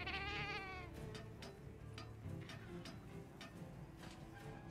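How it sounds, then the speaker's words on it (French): A cat meows in the Monster Hunter Wilds video game, giving a clear, fairly loud call right at the start over steady game music and ambience, with soft clicks and ticks continuing afterward. "Il est trop mignon le chat."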